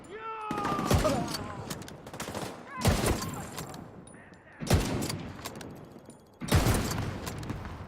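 Four heavy, booming rifle shots in the video game Tom Clancy's The Division 2, each a sharp crack with a rumbling tail, spaced about two seconds apart, with faint game effects between them.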